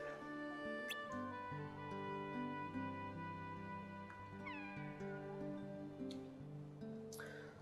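A cat meows repeatedly in Kingdom Hearts 2 Final Mix, the calls loud and close over a steady musical background, with no one talking.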